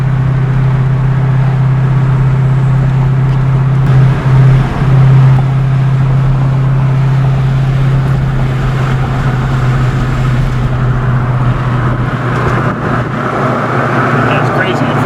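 A Ford 5.0 V8 car with a T-5 manual gearbox and pistol grip shifter drones steadily with a deep, loud exhaust note, heard from inside and holding fairly constant throughout.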